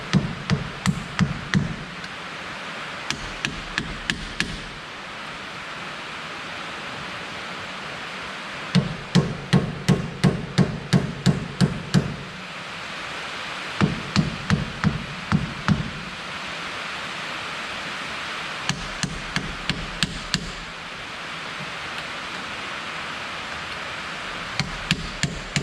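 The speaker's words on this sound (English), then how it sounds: "I try with that pry bar there first. Sometimes they pop right out, sometimes they don't, but if they don't, just come in here with a little flathead" An old seal is pried out with a pry bar and a flathead screwdriver during vehicle repair work, bursts of sharp metallic knocks and scraping taps clustered in several groups over a steady background hiss.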